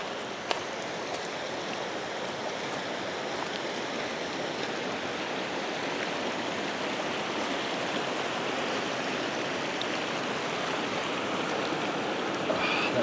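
A river stream rushes in a steady, close hiss of flowing water for the whole stretch, with no voices.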